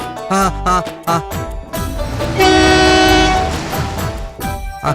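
A loud train horn blares over rumbling rail noise, sustained for a couple of seconds amid clattering, close and dominant throughout.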